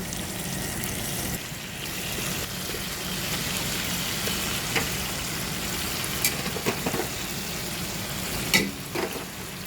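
Sautéing in a pan for kare-kare, with a continuous sizzle over a low rumbling background and intermittent spoon scrapes and taps against the pan.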